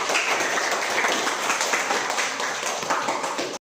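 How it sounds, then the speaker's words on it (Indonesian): Classroom applause for student groups after their presentations, a dense continuous clapping from many hands, close and fairly loud, lasting several seconds before cutting off abruptly. "kita berikan aplaus untuk kelompok 1 dan kelompok 4"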